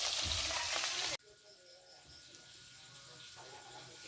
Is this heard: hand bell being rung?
no